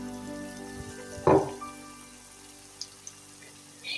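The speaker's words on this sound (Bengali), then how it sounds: "এই নাস্তাটি কিন্তু ধীরে ধীরে এপিট ওপিট করে ভেজে নিতে হবে" Grated raw potato snack pieces frying in oil give a soft, low hiss, with a single sharp clunk near the start and a few faint later taps as pieces are placed or turned.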